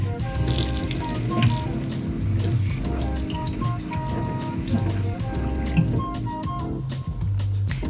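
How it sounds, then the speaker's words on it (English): Running tap water splashes steadily as a mixing spoon and tablespoon are rinsed at a kitchen sink while making triple layer frozen yogurt, with clinks of the spoons and a continuous close, moderately loud stream and no talking. "So I'm gonna quick rinse my spoon."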